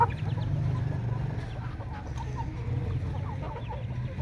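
Aseel chickens cluck repeatedly while feeding in a farmyard, short irregular clucks from several birds over a steady low background, with no one speaking.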